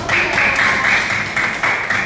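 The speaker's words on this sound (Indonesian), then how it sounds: "Tepuk tangan buat Dato." A classroom of students claps for a classmate in a short burst of dense, loud applause that pulses slightly in rhythm.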